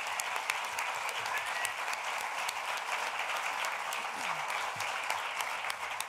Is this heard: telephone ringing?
no